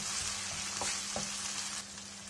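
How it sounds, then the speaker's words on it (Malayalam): Sauces and onions stirred together in a hot pan for egg Manchurian, a steady close sizzle of frying with a couple of soft spoon scrapes, no voices. "സോസുകൾ നമ്മുടെ ഒണിയനും എല്ലാം ചേർന്നിട്ട് നന്നായിട്ടൊന്ന് മിക്സ് ആയി വരണം."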